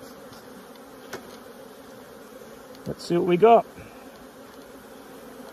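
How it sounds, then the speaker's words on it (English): Bees buzzing in a beehive super during a queen release, a faint hum in the background with one brief, louder buzz of a bee flying near. Someone talks briefly over the buzzing. "There's a load of bees in the super though still."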